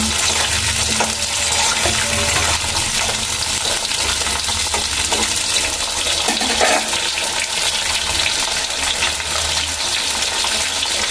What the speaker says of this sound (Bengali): এবার সবগুলো ভালো করে একবার মিশিয়ে নেব